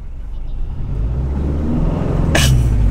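A car engine revving as a learner driver pulls away in first gear with a manual transmission: a low, steady engine rumble that grows louder and ends with a sharp brief noise.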